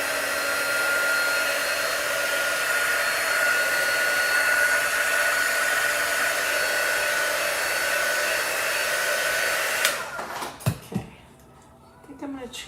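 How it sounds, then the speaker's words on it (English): A hair dryer blows steadily and loudly on freshly applied chalk paint for about ten seconds, then clicks off, leaving brief handling knocks and quiet room noise. "Let's see if our dryer's plugged in."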